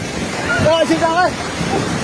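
Loud, roaring rush of a flooding river in Nepal, with an excited voice calling out over the churning water.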